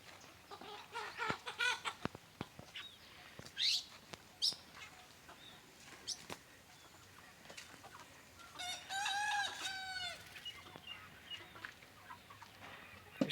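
Native country chickens in a 10x20 shed cluck in scattered bursts, and a rooster crows loudly partway through, over a quiet, slightly hissy background.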